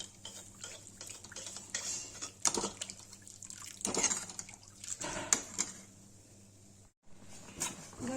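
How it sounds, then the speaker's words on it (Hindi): Milk poured into a pan while cooking aloo paneer sabji, with liquid trickles, metal clinks and stirring clatters close by in a home kitchen, in an irregular rhythm. "दूध डाल देंगे।"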